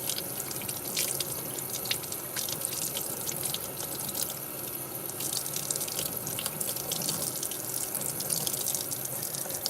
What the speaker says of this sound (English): I'm just gonna rinse her off here.